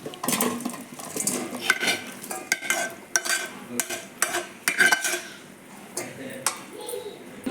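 Veg pulao ingredients are tipped into a rice cooker, metal spoon and pot clinks and scrapes rattling in irregular bursts, close and fairly loud, with a few brief ringing taps.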